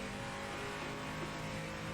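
A Renault Twin Group race car with an 898cc engine drones at steady, high revs in the Project Motor Racing sim, a constant, loud engine tone with no pauses or voices.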